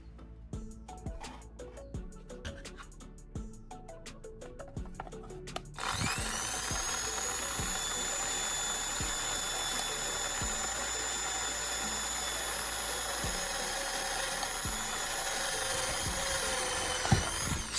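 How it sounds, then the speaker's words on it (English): A reconditioned drill bit bores a hole into plastic, starting with scattered ticks and short bursts, then settling into a continuous, steady motor whine that holds for over ten seconds, close and without talk. "I'm going to use it to drill a hole into a plastic."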